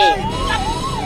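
An ambulance siren wails nearby, a single loud tone sweeping slowly up and down over a low traffic rumble.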